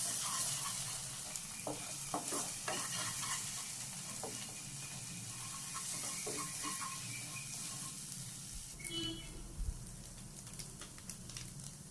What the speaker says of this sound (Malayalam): ഈ 1 മുട്ട കൂടെ ഇതിൽ ഇങ്ങനെ ചേർത്ത് കൊടുക്കും. ഇതിനെ നന്നായിട്ടൊന്ന് ചിക്കിയെടുക്കാം.